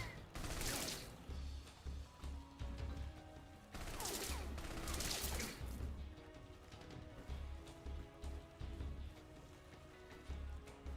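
Enemy gunfire in Metal Gear Solid Delta: Snake Eater, two bursts of crackling shots a few seconds apart over a steady low rumble and pulsing background noise, fairly faint overall.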